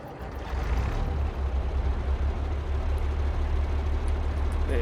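A truck engine in Farming Simulator 22, during a logging job, runs with a steady, loud low rumble that holds evenly throughout, with no voices.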